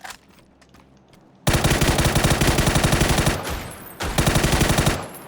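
Loud automatic gunfire rattles out in a video game: a quiet moment, then a long rapid burst, a brief pause, and a second burst.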